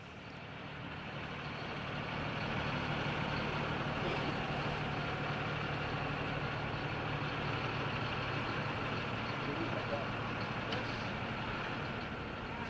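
A heavy multi-ton winter machine turns around on the spot in snowy Québec, its engine droning loud and steady throughout with a constant low hum and no distinct pauses.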